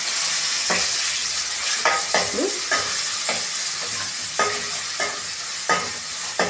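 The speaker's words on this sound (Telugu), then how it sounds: "ఒక చెంచా పసుపు, కలుపుకుంటున్నా." A spoon scrapes and stirs turmeric into a sizzling pan of chicken curry, making repeated rhythmic strokes over a constant loud frying hiss.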